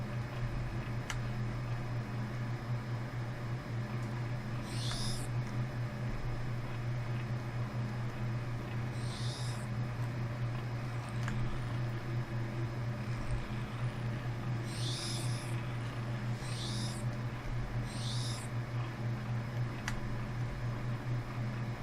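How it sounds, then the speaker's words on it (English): Birds in the video game Empyrion Galactic Survival give short, high chirping calls, some single and some grouped, over a steady low ambient hum. "No, you can't shoot those birds."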